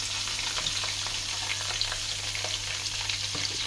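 Star anise, dried red chillies and bay leaves fry in hot oil, giving a steady, close, dense sizzle with faint stirring clicks and no talk.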